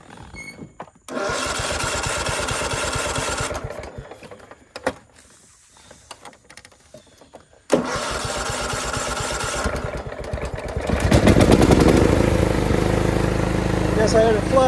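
A flooded lawn mower engine cranks and catches in bursts, sputtering and dying before firing up again and running steadily louder toward the end; a voice speaks briefly.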